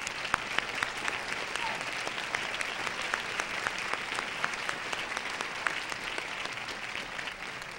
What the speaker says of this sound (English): I would like Joe DeRose to hear nice applause.